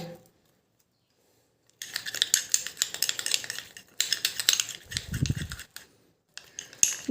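Face pack ingredients being mixed with lemon juice in a bowl, with quick scraping and clinking of a spoon in repeated bursts after a silent start, close and fairly crisp, with a soft thud in the middle.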